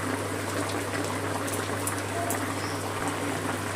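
Thin tilapia fish curry with potato, papaya, green chillies and coriander leaves boils in a pan, a steady close bubbling and hiss that holds evenly throughout with no voices.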